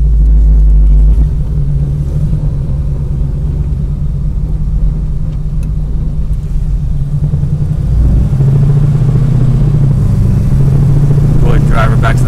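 A motor vehicle engine runs steadily while driving, with a loud, continuous low rumble that swells slightly near the end, and someone talking over it.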